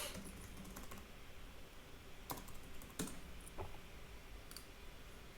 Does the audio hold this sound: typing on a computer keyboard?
yes